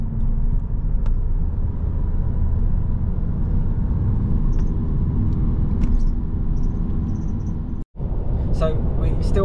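Steady, loud engine and road rumble fills a car cabin on a long road trip, droning continuously, with a brief dropout near the end followed by faint sounds.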